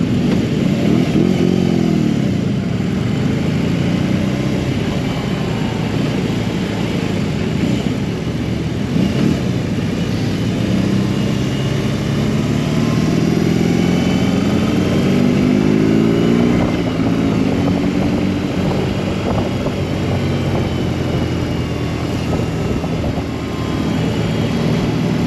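A 2022 BMW R18B with its 1800 cc air-cooled V-twin engine rumbles steadily while riding, a loud continuous drone under heavy wind rush, with the engine note rising and falling slightly.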